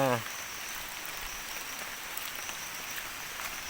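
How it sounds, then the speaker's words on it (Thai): Heavy rain pours down steadily outdoors in flood conditions, a dense, even hiss of drops striking surfaces that fills the whole stretch, loud and close, with no talk over it. "เห็นไหมนี่คือฝนแรงแล้วนะครับฝน ฝนแรงแล้วทุกคน"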